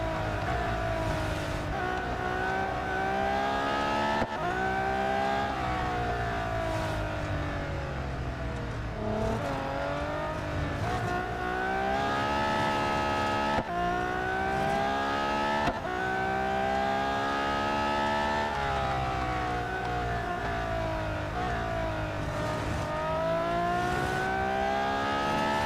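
A Zenvo supercar racing in the Real Racing 3 mobile game, with the engine screaming at high revs and repeatedly dropping and climbing through gear shifts, steady and loud throughout with no talk.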